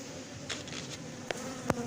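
A honeybee swarm buzzes outdoors in Villabé during a cardboard-box and smoke capture, a soft steady hum with a few brief louder passes of bees flying close.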